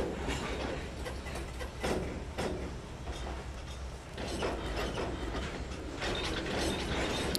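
Freight cars, including intermodal wagons, rolling behind a locomotive in the Trainz 2022 simulator on the Tidewater route, giving a steady loud rumble with faint rhythmic clicks throughout.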